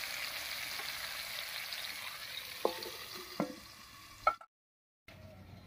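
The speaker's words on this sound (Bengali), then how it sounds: "এবারে ঢাকা দিয়ে ভাজা করে নেব" Pointed gourd frying in a covered pan, a soft steady sizzle with a few brief clatters of the lid or utensil near the end before a short silent gap.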